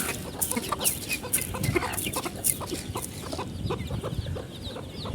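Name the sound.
chickens clucking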